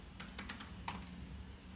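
Computer keyboard keys typed in a quick burst of several clicks followed by a pause, close and fairly clear against a quiet room, while entering a font color in design software.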